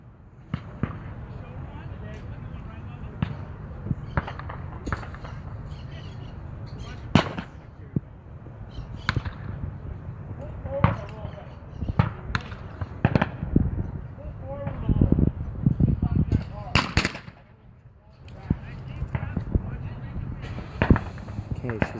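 Shotgun shots at an NSSA skeet shooting event ring out outdoors as sharp reports at irregular intervals, sounding moderately distant, with people talking throughout.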